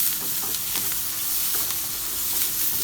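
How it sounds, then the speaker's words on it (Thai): Onion, mushrooms and bacon stir-frying in a pan for spaghetti carbonara, a loud steady sizzle with quick repeated scraping strokes of a utensil, close and without talking. "แล้วก็ผัดหอมใหญ่ผัดเห็ดเบคอนฮะ"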